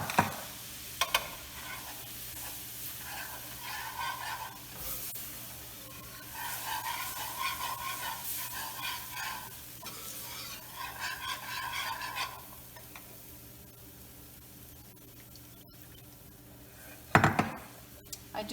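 Quiet scraping and swishing of milk being stirred into a béchamel roux in a pan, in soft, steady strokes over a low background hiss, with a sharper clatter near the end.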